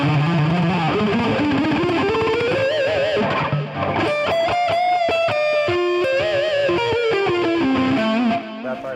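A distorted electric guitar plays a fast, expressive solo with bends and quick runs, loud and continuous throughout.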